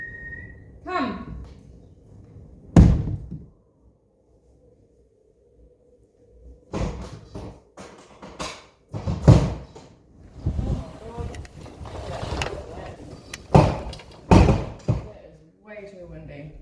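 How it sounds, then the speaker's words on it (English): A front door bangs and rattles open onto a windy day, followed by bursts of gusty wind roaring across the microphone, with a brief whistle at the start and voices in between. "I just opened my front door"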